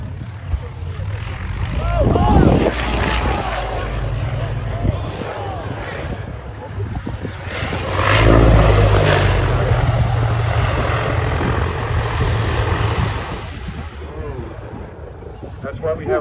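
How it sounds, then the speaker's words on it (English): A cargo plane landing at Geneseo, with a broad, loud engine roar that swells twice, mixed with crowd chatter and voices from onlookers throughout. "In the American city of Geneseo, a cargo plane's landing nearly ended in disaster"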